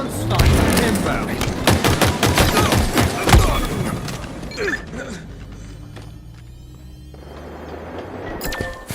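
Rapid gunfire from the video game Halo Infinite in a Capture the Flag match: dense bursts of shots and thuds for several seconds, then quieter game ambience with faint distant effects, and a brief announcer-like voice.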